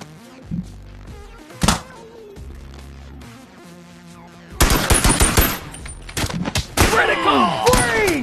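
A gun firing in the VR game Bonelab on a modded map: a couple of isolated shots early, then a loud, rapid burst of automatic fire with clattering impacts, near and punchy, with someone speaking.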